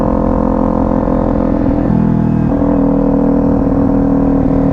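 Motorcycle engine droning steadily and close, its pitch stepping up after a shift into second gear partway through, continuous with no talk.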